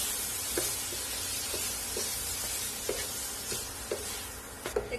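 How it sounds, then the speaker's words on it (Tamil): Raw banana pieces tossed in masala in a pan on a low flame, with a constant soft sizzle and a string of light spatula scrapes, close up and without talking. "இப்ப இந்த வாழைக்காயை நல்லா இந்த மசாலால பரட்டி விடலாம்"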